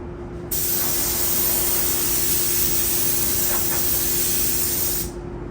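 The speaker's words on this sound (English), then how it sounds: "So you can spray out of a cup gun" Cup spray gun spraying unreduced waterbase paint, a steady loud hiss of atomized spray that starts abruptly and runs evenly for several seconds before cutting off, with a constant low compressor hum underneath.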